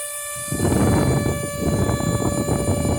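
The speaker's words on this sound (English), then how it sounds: "The thing sounds like a tornado siren." A steady, loud high-pitched whine like a siren from an RS-360 motor driving an impeller fan starts after a brief quiet moment, with a rushing whir of spinning air beneath it.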